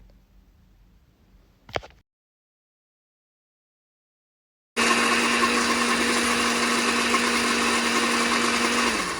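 An electric blender beats egg and sugar into batter for a quick one-egg cake. A soft click comes first, then silence, then the motor starts and whirs loudly and steadily to the end.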